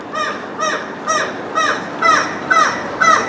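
Seagulls calling near the Grand Hotel in Scarborough on the North Sea coast, seven loud, evenly spaced squawking cries in steady rhythm, close and clear over faint background noise.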